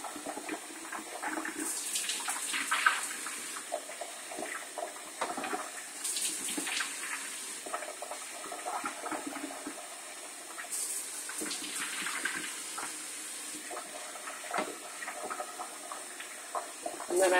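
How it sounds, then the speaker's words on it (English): Rice being washed under a running kitchen faucet to rinse off the starch, for Jamaican white rice: water flows steadily into a bowl or sink, with swishing and gushing surges at intervals, close up and fairly quiet, with no talking. "So you just kind of wash up that starch off of it"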